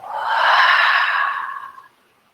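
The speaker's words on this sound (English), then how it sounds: "Full exhale through your mouth, let your breath go" A long, full breath let out through the mouth during a yoga flow, a soft airy exhale that swells, holds steady, then tapers off over about two seconds, close and alone.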